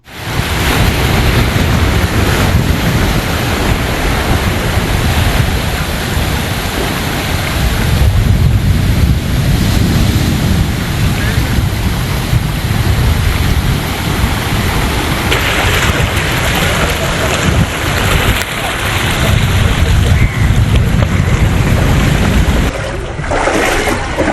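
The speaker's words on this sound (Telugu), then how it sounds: "సముద్రంలో అలలు జనావాసంలోకి పోటెత్తాయి" Rough sea waves surge onto the Kochi coast and flood into residential colonies, a loud continuous roaring wash with heavy wind buffeting throughout and no voices.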